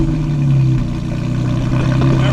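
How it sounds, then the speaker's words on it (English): A 2023 Porsche Cayman GT4 RS Weissach idles loudly just after a cold start with the valved exhaust closed, giving a steady, close engine drone with a slight shift in pitch partway through. "So that's the cold start without the valved exhaust on."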